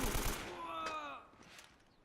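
Turret gunfire in the video game Uncharted, with Nathan Drake's mounted gun firing a dense, loud burst up front that trails off over about two seconds, with a voice-like tone mixed through the middle.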